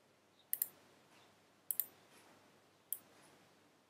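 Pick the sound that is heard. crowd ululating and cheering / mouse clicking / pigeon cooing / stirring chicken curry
mouse clicking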